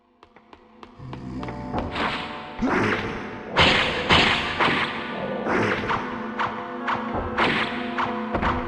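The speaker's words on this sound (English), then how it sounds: "Maybe the most useless grenade in all of video games." Grenade blast from the PS1 game Vampire Hunter D (1999), a series of dull thuds and crunchy impacts scattered over a steady backdrop of game music and effects, moderately loud and close.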